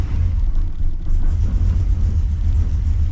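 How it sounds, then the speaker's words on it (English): A Holden VX SS Commodore V8 idles low and steady in drive with the brake held, a loud, close, continuous rumble with a faint high whine. "Okay, that's in drive with my foot on the brake."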